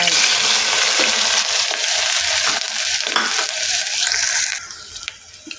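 Onion and green chilli pieces hit hot oil in a pressure cooker pan with a loud, close, crackling sizzle and spatter that gradually softens toward the end.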